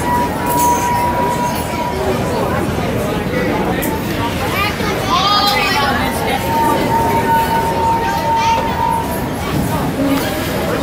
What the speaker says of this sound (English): Why does that train seem quieter now than it was when I was a kid?